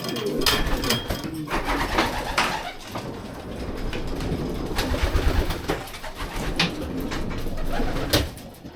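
Racing pigeons coo at their loft, soft throaty calls repeating near and far over a busy background, with occasional sharper chirps and brief rustles.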